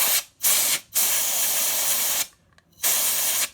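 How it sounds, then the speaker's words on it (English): A can of compressed air fires quick blasts at an iPhone ear speaker, sharp loud hissing bursts, three of them separated by short silent gaps, close to the microphone. "Hold the compressed air at least half an inch away from the screen."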